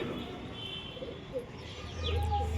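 Pigeons on a rooftop coo in low, soft murmurs against a faint outdoor background, with a slightly louder coo near the end.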